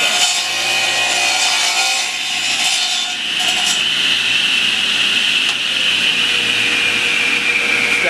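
A radial arm saw cuts through wood as the carriage is drawn forward, giving a loud, continuous whining drone with rasping cut noise that holds steady close by for several seconds.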